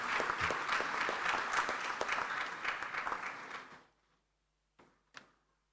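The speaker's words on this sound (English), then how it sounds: "Please, another round of applause." A conference audience applauds after a speech in a parliamentary debate: dense, steady clapping that is loud and sustained at first, then fades out after about four seconds, followed by a couple of brief knocks in near silence.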